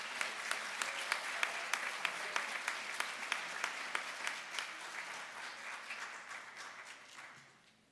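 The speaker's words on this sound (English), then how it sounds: "Give them a round of applause, please." A high school fine arts festival audience applauds its fine arts teachers in a sustained round of clapping with a few sharp individual claps standing out, gradually tapering off toward the end.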